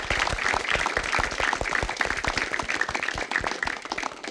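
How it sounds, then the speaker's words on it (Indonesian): A studio audience at a TV quiz show claps for the contestants, a dense, even burst of applause that carries on loudly for several seconds before easing slightly. "beri tepuk tangan dulu buat para peserta"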